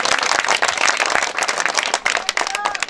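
A crowd at a local football tournament gives dense, steady applause for the footballer Mohammad Ripon, the clapping loud and close and continuing without a break.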